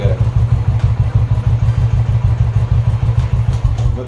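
A Royal Enfield Classic motorcycle idles close by after self-starting, its single-cylinder thump beating in a fast, even rhythm with mechanical clatter and no one talking over it.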